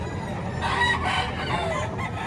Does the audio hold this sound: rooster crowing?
yes